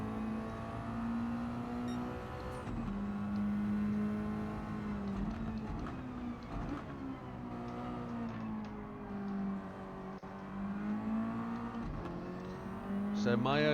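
Race car engine lapping Gran Turismo 7's Tsukuba circuit in a turbocharged Roadster touring car, a steady droning note with shifting revs and brief upshifts, continuous and fairly loud throughout.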